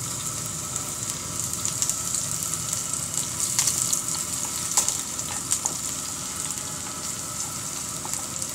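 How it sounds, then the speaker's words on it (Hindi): Green chillies and ginger fry in about two tablespoons of ghee in a pan, giving a constant close sizzle with scattered sharper crackles and spits over an even background hiss. "अब मैं उसमें ये हरी मिर्चें और अदरक डाल के इनको फ्राई करूंगी।"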